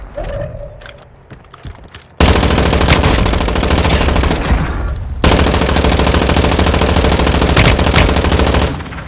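Loud, sustained bursts of rapid automatic gunfire with booming shots in Warzone Mobile, nearly continuous after a quieter start, with a brief pause midway.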